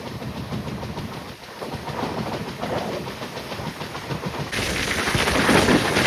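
Steady rumble and rhythmic clatter of an Indian express train running fast just out of Gauribidanur, heard from on board, loud and continuous with a brighter rush near the end.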